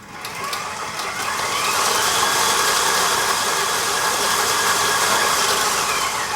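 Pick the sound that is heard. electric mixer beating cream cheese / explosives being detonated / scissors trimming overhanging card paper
electric mixer beating cream cheese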